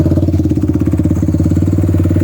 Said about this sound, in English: So here it is idling.